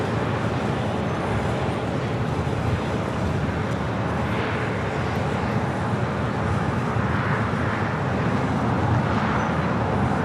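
Frontier Airbus A321 in Mountain Gold livery taxiing toward the west gates at LAX after arriving from Seattle, a continuous loud engine roar with slight swells in intensity across the whole stretch.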